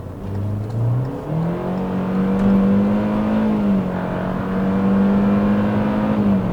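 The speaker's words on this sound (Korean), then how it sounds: "좀 천천히 주행하는 선행 차량 추월해서 속도를 한번 올려 볼게요" A Hyundai Venue with a CVT revs up steadily as it accelerates to overtake, its hum climbing in pitch, briefly dipping at a gear change, then holding a strong, sustained drone.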